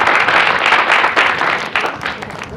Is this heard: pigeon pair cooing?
no